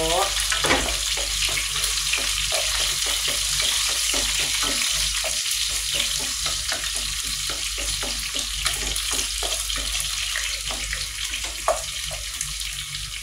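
Garlic frying in a pan for a chicken and broccoli lunch, a continuous loud sizzle with occasional stirring clicks and scrapes running steadily throughout.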